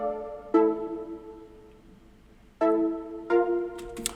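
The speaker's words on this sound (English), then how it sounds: "we have these layer synths" Layered synth chords built from stock GMS plugin sounds, sustained harmonic stacks entering in three separate swells with a brighter top note, played alone without voices.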